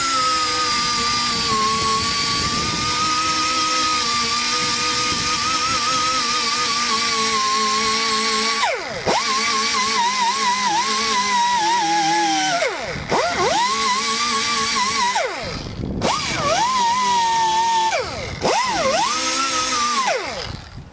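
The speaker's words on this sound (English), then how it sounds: "So first I need to grind it." An angle grinder works the dented metal of a car body panel, a loud steady high whine that dips and recovers each time the disc bites or lifts off, with several short pauses near the end.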